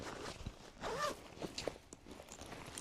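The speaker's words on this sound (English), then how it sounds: "you can put the poncho in the bottom of the bag, zip it up" Bag zipper being pulled shut on the bottom compartment of a theme-park day bag, a quick rasping zip with a few soft handling bumps around it, close and fairly quiet.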